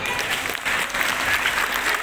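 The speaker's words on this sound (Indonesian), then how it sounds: "Tepuk tangan dulu." A crowd at a large community gathering in a hotel hall breaks into applause, a dense, sustained clatter of many hands clapping at once, fairly loud and even across the whole stretch.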